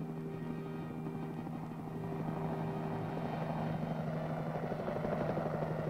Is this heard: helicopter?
yes